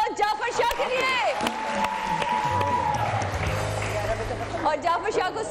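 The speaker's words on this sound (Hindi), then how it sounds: "तालियां बजाओ जाफर शाह के लिए" A studio audience at a Pakistani singing competition claps and cheers for a contestant, with steady applause and whoops under a host's voice that keeps talking over it.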